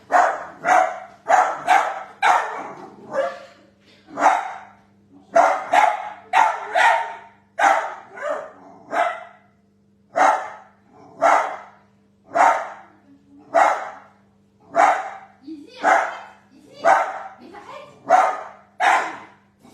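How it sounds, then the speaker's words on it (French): A guard dog barks from a sofa in a home during a live cooking session, sharp repeated barks in quick bursts continuing steadily throughout, fairly close and loud, with no talk over it. "Je suis désolée pour le chien de garde qui n'a pas bougé du canapé"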